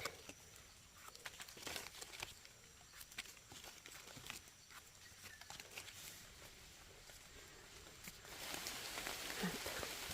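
Rain falling in a forest in Mae Hong Son, a soft, scattered patter of drops on leaves and ground, faint and distant, building to a denser shower near the end.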